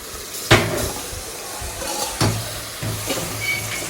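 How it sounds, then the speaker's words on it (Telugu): Marinated mutton with ginger garlic paste fries in a hot pan, giving a continuous sizzle punctuated by a few sharp clatters as pieces drop in and get stirred. "సో ఇది బాగా ఫ్రై అయ్యాక మనం మ్యారినేట్ చేసుకున్న మటన్ని అందులో వేసేయండి"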